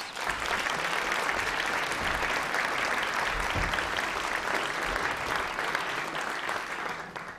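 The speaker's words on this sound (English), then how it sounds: "Let's give them a round of applause." A press club luncheon audience applauds steadily for over seven seconds, a dense even wash of clapping from a large room with no voices.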